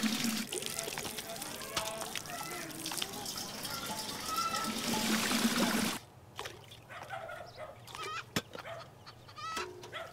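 Tap water runs in a loud, continuous rush, then stops abruptly partway through. Chickens cluck faintly in the background.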